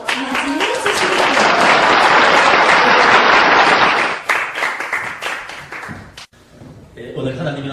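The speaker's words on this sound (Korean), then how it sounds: "목사님 나오실 때 큰 박수로 맞이해 주시기" Applause from a church congregation welcoming a pastor to the pulpit, a dense sustained clapping for about four seconds that then thins into scattered claps and murmuring voices.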